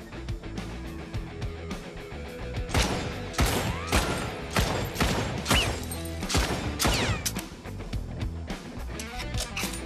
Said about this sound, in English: Cool, now shoot the targets, those bottles, whatever's left.